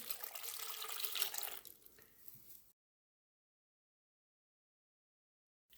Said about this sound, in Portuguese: Cobrir com água.